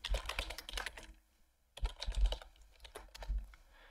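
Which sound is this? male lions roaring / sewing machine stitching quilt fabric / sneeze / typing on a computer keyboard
typing on a computer keyboard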